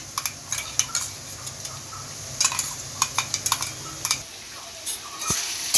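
Onion stirred with green chilli, garlic and ginger paste in hot oil in a pan, with irregular close scrapes and metallic clinks of a spoon against the pan.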